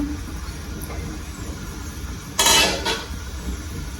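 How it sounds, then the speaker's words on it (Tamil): Second coconut milk pours into a pot of Jaffna-style fish curry, a brief splashy rush lasting about half a second over a low, steady background hum. "இப்போ நாங்கள் எடுத்து வச்ச 2ஆம் பால் இதுக்குள்ள விடுவோம்."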